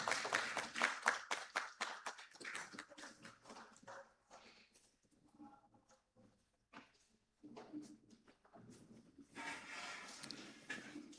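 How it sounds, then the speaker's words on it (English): An audience at the annual general meeting of a society of private medical and dental practitioners claps for a royal guest of honor: a burst of sharp, rapid claps, then scattered sounds and talk, then a second swell of clapping. "Please, a round of applause as we receive him one more time."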